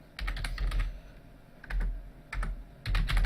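Bursts of rapid key clacks on a computer keyboard come in four quick flurries with short pauses between, close and crisp.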